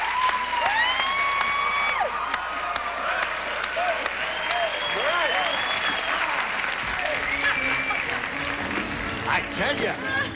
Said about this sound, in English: while you give her a polite round of applause